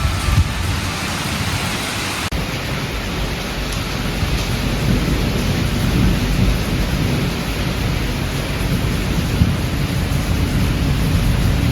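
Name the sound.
thunderstorm with rain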